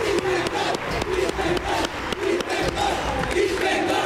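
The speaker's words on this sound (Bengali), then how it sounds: "দলের জন্য ওয়েলডান, জোরে হাততালি হোক।" A studio audience on the Bengali TV quiz show Dadagiri Unlimited claps and cheers loudly for East Bengal and Mohun Bagan teams, with dense continuous applause and shouting from a close crowd.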